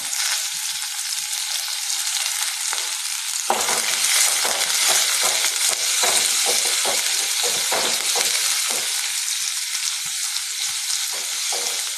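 A mix of big and small onions sautés in a pan for a village-style fish curry. A continuous loud sizzle is joined by repeated scraping strokes of stirring, with no talk.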